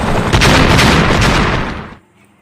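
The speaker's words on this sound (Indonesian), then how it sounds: "membuat helikopter meledak menabrak bebatuan" Helicopter exploding after crashing into rocks, a film sound effect: a loud sustained blast and rumble filling about two seconds, then cutting off abruptly into near silence.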